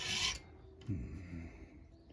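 A single short rasping file stroke across metal while sharpening a blade edge, followed by a quieter polishing scrape, close up and fairly faint.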